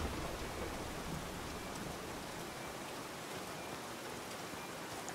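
Steady rain falling in a video game, a dense, even hiss of heavy downpour that holds constant throughout with no voices over it.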